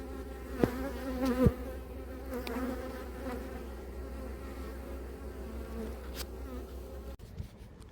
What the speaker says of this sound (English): You can hear them buzzing around me